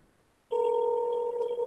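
An outgoing telephone call rings on the line: after a brief quiet moment, a single sustained ringback tone sounds clearly and steadily to the end.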